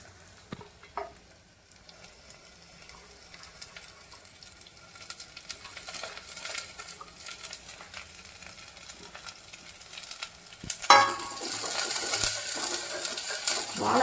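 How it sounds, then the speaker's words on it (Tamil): Banana flower sautéing with onions in a pan: a faint sizzle that grows louder, with occasional spoon clinks and stirring scrapes, rising to a brighter frying hiss near the end. "வாழைப்பூ நல்லா வதங்கணும் ஒரு அஞ்சு நிமிஷம் வதக்கணும்"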